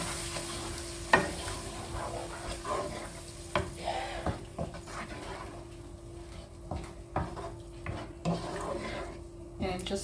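Canned tomatoes cooking in a pan, stirred with soft scrapes and taps of a utensil over a low simmering sizzle, fairly quiet and close.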